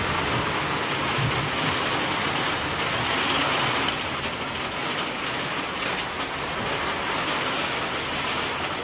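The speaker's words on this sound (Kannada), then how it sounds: "ಒಳಗೆ ಬರ್ಲಾಗ್ತದ್ರಿ ಮಳೆ" Heavy night rain lashes down in Budagumpa and blows in through the window, a loud, continuous wash of falling water with slight surges, close and steady, with no one speaking.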